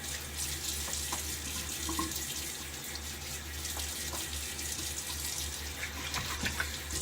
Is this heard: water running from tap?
yes